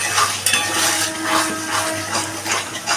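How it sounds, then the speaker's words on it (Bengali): Three eggs cooked down with spices in a pan, scraped and stirred with a utensil in steady strokes over a soft sizzle, with occasional light clinks of metal against the pan. "দিয়ে ডিমটার সাথে মশলাটাকে আমি ভালো করে কষিয়ে নিচ্ছি।"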